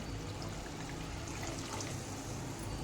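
A little water trickles into a paste, a soft continuous pour under a faint steady background with no talk.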